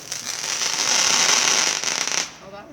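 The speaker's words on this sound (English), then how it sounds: "That was a sparkler, I think." A sparkler firework fizzes and crackles loudly and continuously for about two seconds, a bright hissing spray of tiny pops that cuts off abruptly into quiet.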